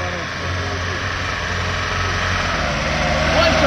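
A LuAZ off-road car fitted with a Zhiguli engine revs on a muddy off-road track, a steady loud engine drone building slightly toward the end, with a voice talking over it.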